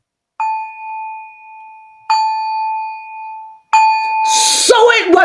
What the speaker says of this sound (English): Shall I hit the bell 3 times?